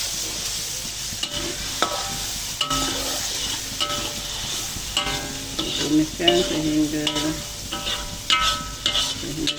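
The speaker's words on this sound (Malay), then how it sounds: "kita tumis dulu" Ingredients sizzle and crackle steadily in a hot pan, with occasional scrapes and clinks of a utensil stirring, close up and without talk.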